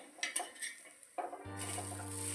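Food being flipped in a pan while pan-roasting, a few light metallic taps and scrapes, then a louder clatter followed by a steady low hum and faint sizzle.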